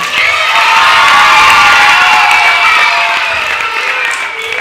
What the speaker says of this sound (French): On applaudit le corps.